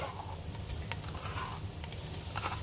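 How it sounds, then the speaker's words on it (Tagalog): Garlic paste frying in a pan, a quiet steady sizzle with a few light stirring taps over a low background hum. "Isunod natin ang garlic paste."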